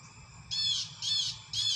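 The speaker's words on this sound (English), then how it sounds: "Even the birds concur, Israel." Three loud, harsh caws from a crow, evenly spaced about half a second apart, close by over a faint low background hum.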